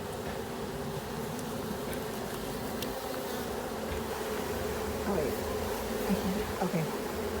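Dense, steady buzzing of many honey bees from a package being hived into a box, continuous and close throughout with slight swells toward the end.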